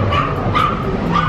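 Dogs on a quiet street in the Envigado zona rosa district of Antioquia, Colombia, give three loud, close barks spaced about half a second apart, with no talking.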